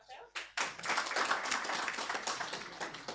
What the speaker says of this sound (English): Let's clap for